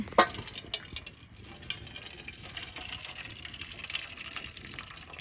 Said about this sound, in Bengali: এবার বরবটি সিম সিদ্ধ করতে দিছি ভাজি করবো সিদ্ধ করে জল ফেলাই দিচ্ছি